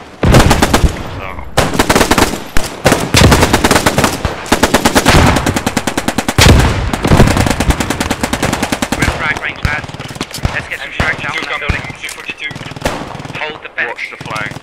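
Sustained machine gun fire in the Post Scriptum video game, loud and rapid bursts running almost continuously with heavy gunshots and brief gaps, dense battle din throughout.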